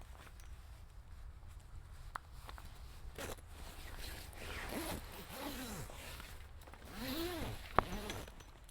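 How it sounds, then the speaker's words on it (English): Zipper being drawn along a fabric wall panel of a 23Zero Onyx 270 awning, a series of short and longer rasping zips with small clicks and handling rustle, close and fairly quiet, no talk. "if you don't zip this panel from the top all the way in, it's a lot easier to get the side started"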